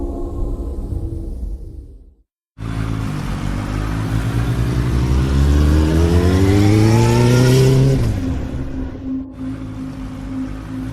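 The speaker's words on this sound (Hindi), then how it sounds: "नील बाइक से अपने घर जाने के लिए निकला।" A motorcycle engine revs up loud and close, its pitch climbing steadily for several seconds before dropping off, as a sound effect in a Hindi audio story about riding home late at night.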